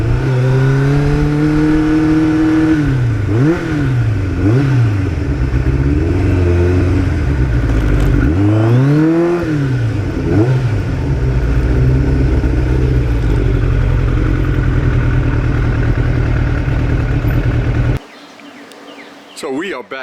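A 1989 Kawasaki GPX750R Ninja motorcycle engine runs close and loud, its steady drone broken by repeated revs that rise and fall, before it cuts off abruptly near the end.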